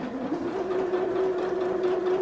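A Janome 5060QDC sewing machine stitches fabric in a steady, even hum with a constant motor tone, running at close range without pause and with no talking.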